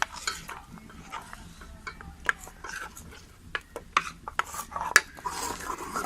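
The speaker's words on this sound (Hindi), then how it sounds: "आस्ता आस्ता चम्मच चलाते जाएं" A spoon stirs custard in a pot: soft scraping with scattered sharp metallic clinks against the pot's sides at an uneven, unhurried pace, close and fairly quiet, with no voices.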